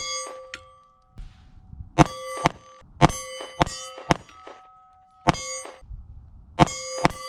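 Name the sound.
bullets hitting a big steel gong target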